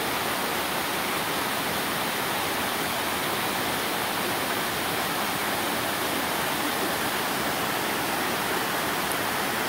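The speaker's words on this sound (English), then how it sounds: "not anywhere near as much water as it was last time coming off the falls" Laurel Falls in Great Smoky Mountains National Park, running with lower flow than usual, gives a steady, loud rushing roar of falling water that holds unbroken throughout and is heard alone.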